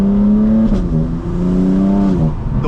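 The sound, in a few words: BMW M4 G82 with catless downpipes and intakes accelerating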